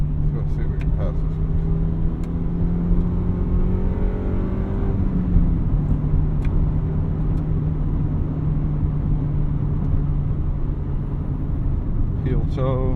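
A 1999 Honda Civic Si with a five-speed manual pulls hard to overtake, its engine note climbing steadily before a gear change, then holding a steady drone under road and wind noise from inside the cabin.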